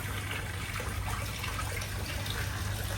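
Salt water rushes steadily through a boat's air conditioning condenser, a continuous close hissing, gushing flow with a low hum underneath, no voices.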